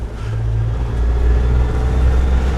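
Manual-transmission car pulling away in second gear during a driving lesson, its engine rising to a steady loud drone with low road rumble over a couple of seconds, no talking.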